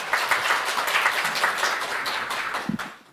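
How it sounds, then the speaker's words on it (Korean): An audience at a lecture on how South Korea's school system fostered competitive education claps steadily, a dense, even patter of many hands that slowly fades toward the end, with no talk over it. "박수 부탁드립니다."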